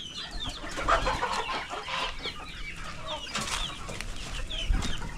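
A busy chorus of young pullet chickens clucking and chattering inside a coop, with steady overlapping calls close by and no pauses.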